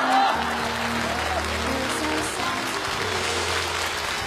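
A studio audience at a televised comedy sketch show applauds steadily, a broad wash of clapping with low music or hum underneath, lasting about four seconds.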